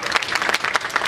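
Audience at a university orientation event (OPAK BSI 2017) claps in a dense, steady burst of applause for about a second, fairly loud and close, with no voices over it.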